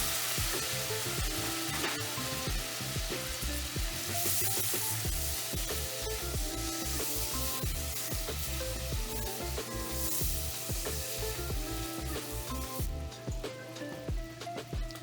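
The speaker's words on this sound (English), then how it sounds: "Now it's time to add the pork into the pan." Pork frying in a pan with caramelised onion gives a loud, dense, continuous sizzle and crackle that runs unbroken throughout, close up with no speech.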